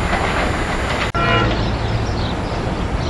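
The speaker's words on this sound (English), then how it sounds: "Here comes the SEPTA train coming in." SEPTA Silverliner IV commuter rail cars, train 582 to Lansdale, arrive at Paoli station with a loud, steady rumble and hiss that holds close and constant, broken by a brief dropout, with faint tonal squeals over the rolling noise.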